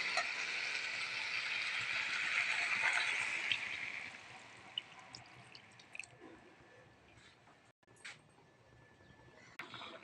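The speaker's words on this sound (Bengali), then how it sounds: "এবার আমি জল দিয়ে দেবো।" Water poured into a pan of soybean curry: a steady, bright rushing pour for about four seconds, then quieter bubbling, drips and small clatters as the pour stops.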